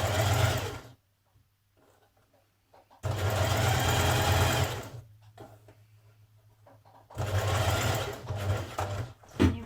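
A sewing machine stitches a blouse in three bursts of rapid mechanical whirring, each lasting a couple of seconds, with quiet pauses between them as the fabric is turned.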